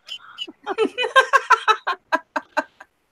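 A human voice imitates a turkey's gobble with a rapid series of clucking, warbling syllables, loud and close, tapering into a few separated bursts at the end.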